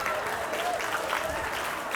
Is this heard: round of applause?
yes